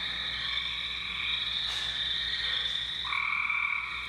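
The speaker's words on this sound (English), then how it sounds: "That trilling kind of sound is the gray tree frog." A steady, high-pitched trilling of gray tree frogs continues throughout, with a second overlapping trill joining near the end; no voices.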